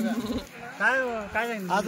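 Wavering bleats from a Kathiawari goat, two or three calls close by, with a low murmur between them.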